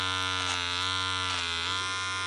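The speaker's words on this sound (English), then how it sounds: "Panasonic all-in-one trimmer" A Panasonic all-in-one multi-groomer beard trimmer runs with a steady, close electric buzz, a constant tonal hum that slightly shifts in texture as it moves, with no talking.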